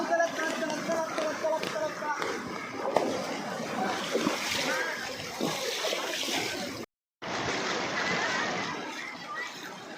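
Floodwater rushes and splashes through a village street in heavy rain, a loud continuous churning wash with sloshing bursts, briefly cutting out near the end, while a crowd of onlookers chatters underneath.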